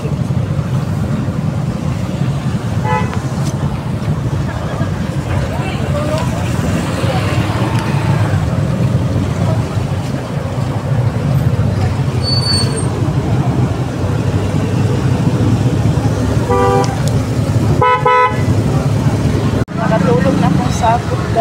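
Continuous rumble of heavy road traffic in flooded Cebu City during heavy rain, engines droning close by with a few horn toots and clatters, while a person talks over the noise.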